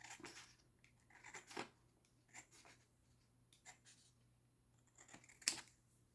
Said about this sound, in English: so I'm just going to cut off just a little bit